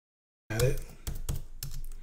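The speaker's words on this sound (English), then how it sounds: "And so I can actually type it." Typing on a computer keyboard: after a moment of silence, a quick run of close key clicks in small clusters.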